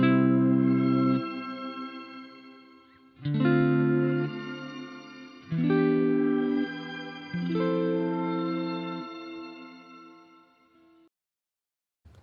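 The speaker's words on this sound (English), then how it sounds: "I basically subdued the effect as much as possible on this patch," Sustained distorted electric guitar chords run through a Boss RV-500 shimmer reverb with subdued effect and rolled-off highs, four strong strums each decaying into a soft tail before fading to silence.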